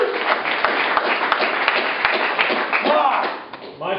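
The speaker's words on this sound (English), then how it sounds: "let's give them a big round of applause." Audience applause at a startup pitch event in a coworking space, a dense patter of clapping hands filling the room steadily, fairly close, with a voice faintly heard near the end.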